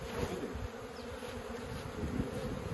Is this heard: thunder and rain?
no